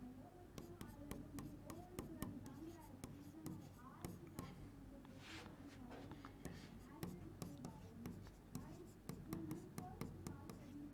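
Chalk or marker writing on a board during a physics lecture, quick irregular taps and scratches in bursts, faint and close, with a teacher's voice speaking underneath.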